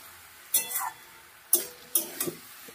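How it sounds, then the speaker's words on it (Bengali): Fried morola fish being stirred gently into a curry in a pan, giving a few soft scrapes and clinks of the spatula, about four separate strokes over a quiet background with no talk. "এবার একটু আলতো করে নাড়িয়ে দেবো"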